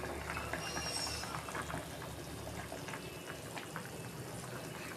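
Magur fish curry (jhol) with fried fish pieces and garam masala simmering in a pot, a steady soft bubbling and sizzling hiss throughout, low and continuous with no talk.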